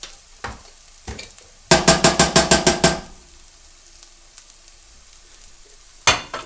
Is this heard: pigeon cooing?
no